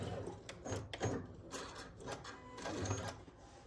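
A sewing machine stitches quilt block pieces together for a nine patch block, with short bursts of close mechanical clatter separated by pauses and handling noise, fairly quiet throughout.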